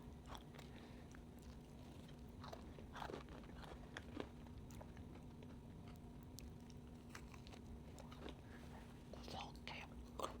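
Someone eats a chilled black sesame cheese tart, making soft close-up bites and moist chewing sounds with small crunches scattered through the clip, quiet and intimate, with no clear words.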